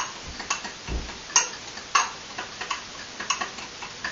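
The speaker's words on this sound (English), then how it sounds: "Just take a little fork, mix these up real quick." A small fork ticks and scrapes against a bowl while mixing brown sugar, cayenne and cinnamon, a quick series of light, close clinks in an irregular rhythm.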